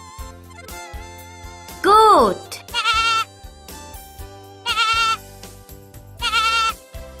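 A goat bleats four times in short, wavering cries spaced a second or so apart, loud and close, over a light background music track.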